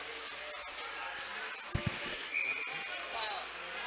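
A referee's whistle sounds once, brief and fairly faint, over the crowd and arena noise of a Division I college ice hockey game between UNLV and GCU, with a commentator talking.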